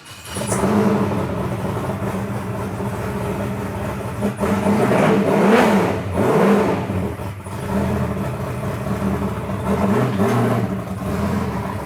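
A powerful 625-horsepower Ultra4 off-road truck engine rumbles and revs in several surges, its pitch climbing and dropping, loud and close with no talking.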